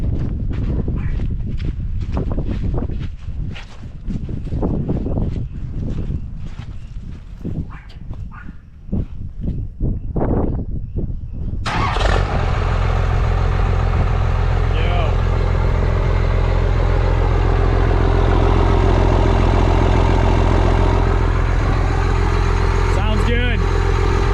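A 1993 Dodge Ram first-gen Cummins diesel with 112k miles, heard from the exhaust: uneven clatter and cranking give way midway to a loud, steady diesel idle, with a voice speaking early on.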